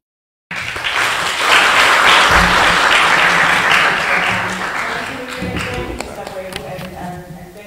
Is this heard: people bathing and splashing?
no